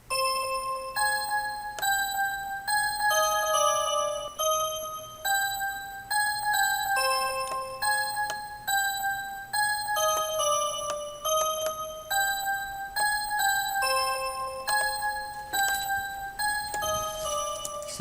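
A bell melody with a delay effect, programmed in FL Studio for a trap beat, repeats bright chiming notes with echoing repeats in a steady looping pattern, continuous and fairly loud throughout.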